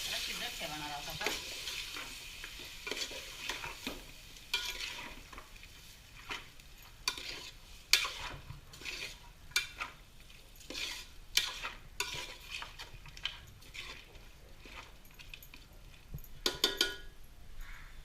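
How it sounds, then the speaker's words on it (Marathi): Agri-style marinated mutton being stirred and fried in a pot, with a steady sizzle beneath repeated scraping and clinking strokes of a spoon, close and moderately loud. "चांगल्या प्रकारे मिक्स करून त्याला शिजत ठेवणार आहोत आपण."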